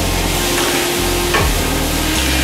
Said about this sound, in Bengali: 4 থেকে 5 মিনিট মিডিয়াম ফ্লেমে এই তরকারিটাকে ভালো করে কষিয়ে নিতে হবে